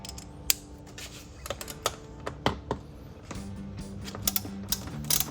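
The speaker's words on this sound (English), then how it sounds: "So here I'm using an 8mm socket." An 8mm socket ratchet turning while a Camaro SS air intake is installed, giving a quick series of faint clicks and ticks, close and irregular, over low background noise.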